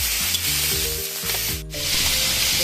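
Chicken pieces frying in hot oil with garlic and onion for pancit make a steady, close hissing sizzle throughout, with background music playing over it.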